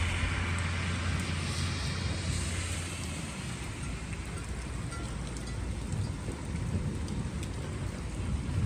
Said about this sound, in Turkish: Yine yağdı yine yağdı.